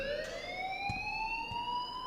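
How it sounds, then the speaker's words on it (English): School alarm ringing in the video game Life is Strange, a sustained rising electronic tone with faint background noise, heard alone and at low level. "please turn off that alarm since that's your job"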